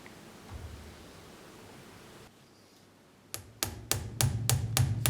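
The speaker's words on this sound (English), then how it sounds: "The last step is nailing the tread sole on." Hobnails are hammered through a leather tread sole on a shoe resting on an iron anvil. After a quiet stretch, about six sharp, close metallic strikes come in a quickening, regular rhythm.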